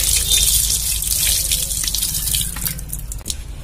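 Banana flower is rinsed under running water in a village kitchen in Kerala, a steady splashing flow with drips and small gushes, close and fairly loud.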